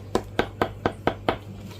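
A poorly printed 3D-printed speaker part being tapped, giving six quick, evenly spaced, close, dull knocks with a slightly flat, papery tone and no talking.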